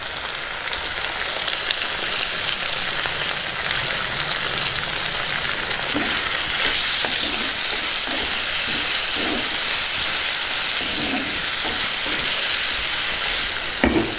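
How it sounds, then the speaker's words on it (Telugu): Tomato pieces cook over onions in a pan for a Telugu tomato curry, filling the clip with a loud, dense, continuous hiss of frying and a few soft stirring scrapes partway through, with no voices. "ఇప్పుడు టమాటో ముక్కలు వేసేసుకుందాం. ఒకసారి బాగా కలుపుకుందాం."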